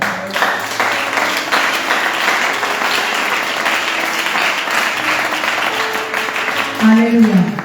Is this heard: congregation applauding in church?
yes